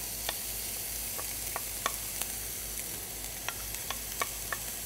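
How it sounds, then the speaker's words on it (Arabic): Red, green and brown lentils are stirred in a frying pan over a constant low sizzle, with scattered sharp clicks of a utensil against the pan, close and moderately quiet, with no voices. "دلوقتي ازود العدس، احط العدس الاحمر"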